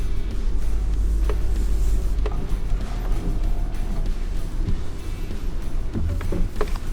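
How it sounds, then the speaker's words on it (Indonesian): A Suzuki Jimny 5-door creeps down an off-road slope on hill descent control. A steady low engine rumble and road noise carry throughout, with a few faint clicks and knocks and no talking. "Nah, turun kita bisa pakai hill descent control."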